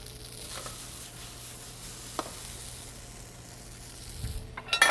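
Spaetzle frying in butter on a hot pan gives a soft, steady sizzle that holds evenly throughout, quiet and close, with a few faint clinks and louder stirring near the end.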